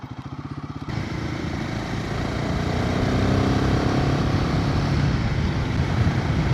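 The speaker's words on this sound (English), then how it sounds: "It does make a nice sound, actually, this engine." A Royal Enfield Himalayan 450 motorcycle engine runs close by, opening with a rapid pulsing thump, then settling into a steady, throaty drone that rises slightly as it revs, with no voices.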